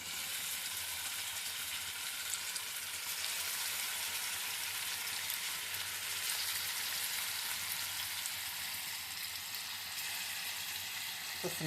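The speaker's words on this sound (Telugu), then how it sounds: "నూనె సెగెక్కిందండి. ఇప్పుడు ముక్కలు వేసేస్తాము." Pieces of food fry in heated oil in a pan, giving a steady, moderately quiet crackling sizzle that continues evenly throughout with no voices.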